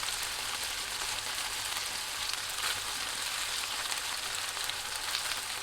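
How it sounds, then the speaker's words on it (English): Chicken breast pieces fry in a pan for a Japanese stir-fry, giving a steady, even sizzle with fine crackling pops throughout and no voices. "2 minutes later, flip the chicken over and cook the other side for 2 more minutes."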